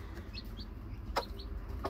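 A mother hen clucks softly near a chick, a few low throaty clucks with a couple of brighter chick-like peeps, close and alone without talk.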